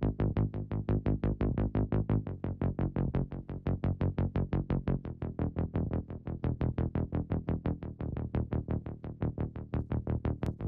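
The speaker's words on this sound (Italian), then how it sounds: "il basso arpeggiato suona così" Arpeggiated synth bass from the Arturia Analog Lab OpenACID preset, a fast, even pulse of plucky notes stepping through a repeating pattern, steady and close, with no talking.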